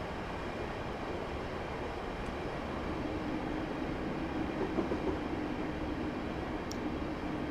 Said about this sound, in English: I'm going to apply the brakes as we pass under this arched overbridge you can see just here